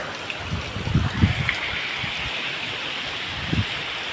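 Heavy, unrelenting rain falls in a soft, steady wash, fairly faint, with a few dull low thuds of water landing nearby.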